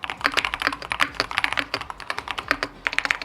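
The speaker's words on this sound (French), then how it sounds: "même le bruit des touches est vraiment top" Quick, crisp clacks of Keychron mechanical keyboard keys being typed in a fast, uneven rhythm, close up and alone.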